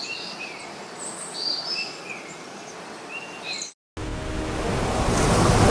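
Ocean waves wash and surge continuously with soft rushing surf and faint bird chirps. After a brief dropout the surf returns louder and fuller, building toward the end.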